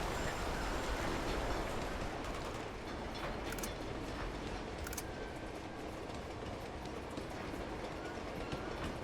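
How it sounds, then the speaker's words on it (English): Steady train rumble from Uncharted 2: Among Thieves, a continuous rolling roar of rail wagons with a few brief sharp clanks, loud and unbroken throughout. "This train goes forever."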